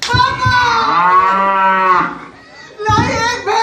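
Buffalo mooing in a village farm setting: a loud, close, drawn-out bellow with rising harmonics, followed after a short pause by a second lowing call.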